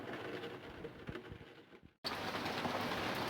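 Rain falls steadily on a sailboat moored in Maine, a dense broadband patter that drops out briefly near the middle, then resumes at full strength with scattered drops ticking nearby.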